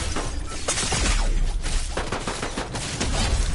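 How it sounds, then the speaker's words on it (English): Dense, continuous gunfire and shots from a Fortnite match, loud and close throughout with no pauses, no voices over it. "Careful, we got people got shooting behind you."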